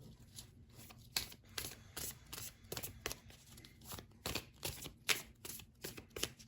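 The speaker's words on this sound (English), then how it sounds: "Let me get another card on this" Tarot cards are shuffled and drawn by hand, making a run of close, crisp riffling flutters and soft slaps with short pauses between them.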